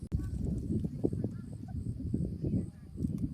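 A turkey gobbles in short bursts through a steady low rumble, fairly close, with faint background noise and a brief voice.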